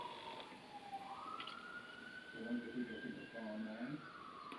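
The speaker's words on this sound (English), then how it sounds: "Wait for the sirens to pass" Emergency-vehicle sirens pass in the distance, one faint wail rising and sweeping steadily while another warbling tone joins partway through. Low traffic hum sits underneath, and there is a quiet indoor voice.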